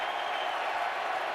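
A baseball crowd at 2009 NLCS Game 5 applauds steadily for Victorino's curtain call after a Phillies home run. The clapping is a dense, even wash from a large stadium audience, with no single claps standing out.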